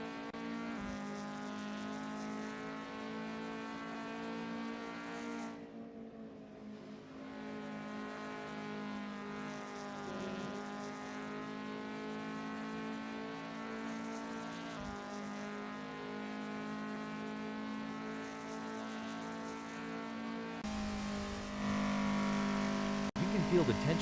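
A race car in a sim racing game holds a steady, droning engine note through an out lap while warming its tyres, with a brief dip in tone midway and a rise near the end.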